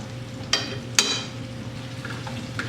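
Minced garlic sizzling in a pot for French onion and potato soup, a steady soft frying hiss with a couple of sharp utensil clinks against the pot as it is stirred.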